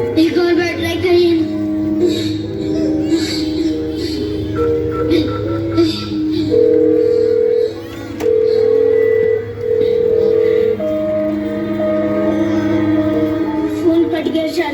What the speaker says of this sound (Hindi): फोन कट गया शारदा जी।